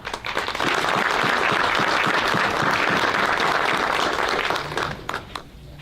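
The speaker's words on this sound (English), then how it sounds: "We're going to give you another round of applause and get your picture taken." An audience at a school board of education public session breaks into sustained applause, many hands clapping densely for about five seconds before the sound thins and fades away.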